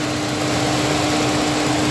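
Chevy Cruze engine idling on a warm day while its AC system runs, a steady close mechanical hum with a constant tonal whine and no change in level, heard alone.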